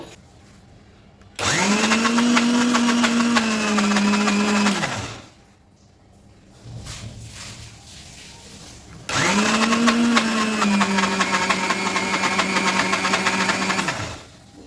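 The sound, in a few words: blender grinding soaked lentils and rice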